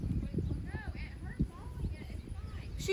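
A horse being led and held by hand, hooves clip-clopping at a walking pace, close by under ongoing talk with a whinny-like squeal partway through.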